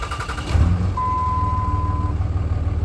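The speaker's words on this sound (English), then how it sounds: "Fires right up, nice." A 2003 Dodge Ram 2500 with the 5.9 Cummins diesel cranks briefly and fires up, settling into a steady, low, throbbing idle, while a sustained electronic tone sounds for about a second just after it catches.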